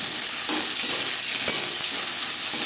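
Eggplant sizzles loudly in hot oil left from frying lentil dumplings, a dense, steady crackling hiss with small pops, very close and continuous with no talking.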